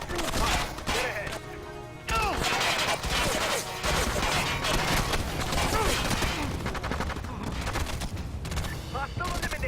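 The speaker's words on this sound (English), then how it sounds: "Firing on target." Gunfire in the PSP game SOCOM U.S. Navy SEALs Fireteam Bravo 3 pours out in dense, loud automatic bursts and overlapping shots almost without pause, with game sounds mixed in.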